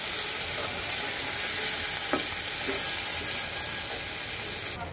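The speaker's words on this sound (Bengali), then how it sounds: "আদাটাকে সুন্দর করে ভেজে নেব।" Ginger paste and nut paste fry with cumin in hot oil, giving a steady, close sizzle throughout with a couple of faint clicks midway; no one speaks.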